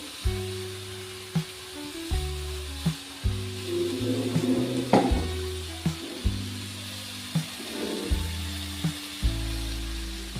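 Ground coconut paste goes into a simmering Kerala curry of cheema chakka and nithyavazhuthana, with soft sizzling and bubbling under repeated knocks and scrapes of a spoon stirring the pot.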